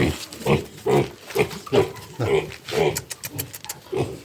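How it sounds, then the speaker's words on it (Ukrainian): A white Pietrain piglet on a farm gives repeated short grunts and snorts in an irregular rhythm, close and fairly loud, with a few sharper squeaky bursts toward the end. "Це порося з білих петренів."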